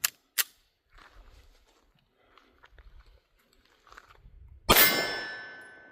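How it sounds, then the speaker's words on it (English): Single sharp report from a Springfield Hellcat Pro pistol, loud and close, with a long ringing decay; a couple of faint earlier clicks and quiet handling noises precede it, with no talking. "So let's shoot the original Hellcat Pro."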